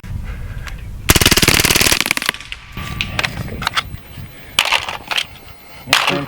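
A full-auto Hatsan Blitz .30 caliber air rifle firing one loud rapid burst lasting about a second close up, followed by scattered clicks and handling knocks.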